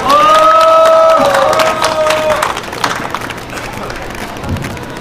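Crowd applause and cheering at an outdoor political rally, loud at first over a sustained tone, then thinning into scattered claps and murmuring voices.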